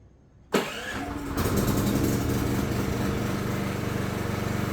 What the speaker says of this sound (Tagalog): Kapag nawalan ng kuryente, magba-brown out, dapat automatic na nabubuhay yung ating generator.